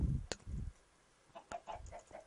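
Chickens cluck softly in the Minecraft video game, with a few short, sharp clucks and scattered quieter calls over a faint background.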